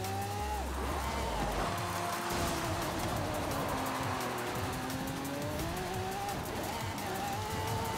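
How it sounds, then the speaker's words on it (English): A car drifts in Forza Horizon 5 with a loud, sustained tire squeal over a steady engine drone, continuous and close throughout, with no talking. "Oh, the drifting is actually not bad. The drifting is pretty awesome."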